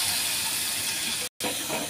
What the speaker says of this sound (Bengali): এটা শর্টকাটে একটু ভাজি করে নিচ্ছি নিরামিষ